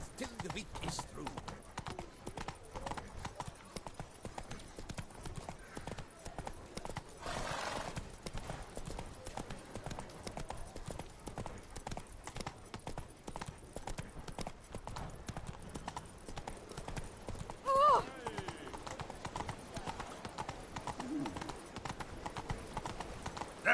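Roach the horse trots in The Witcher 3: Blood and Wine, an even clip-clop of hooves repeating throughout, with a brief whinny partway and a voice speaking over it now and then.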